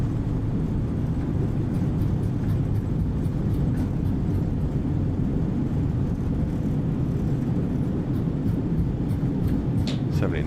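A simulated A320 airliner in MSFS 2020 rolls out after landing at Bangkok Suvarnabhumi with reverse thrust, a loud, steady engine and rumble roar that holds throughout and is joined by faint light clicks near the end.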